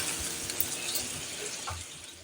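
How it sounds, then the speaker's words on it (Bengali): Hot water is poured into a cauliflower curry, making a steady gushing splash that runs close and moderately loud for about two seconds. "গরম জলটা আমি এটাতে দিলাম।"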